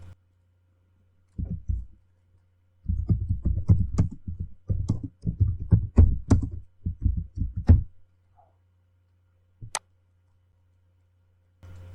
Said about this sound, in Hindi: सब्जेक्ट ऐड करने के बाद आप कोई भी ईमेल टाइप कर लें।